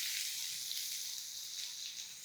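Crushed garlic and chopped ginger sauté in hot oil for a brinjal masala, giving a steady, close, bright sizzling hiss with faint crackles. It runs briefly and evenly, with no voices.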